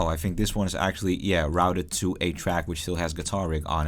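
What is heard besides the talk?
No distinct noise like a dog, phone or traffic.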